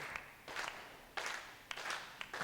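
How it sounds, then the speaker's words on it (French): A small crowd applauds at a bowling final on a touring competition in France, faint scattered bursts of clapping that start and stop unevenly, distant and soft. "Allez, sous les applaudissements du public."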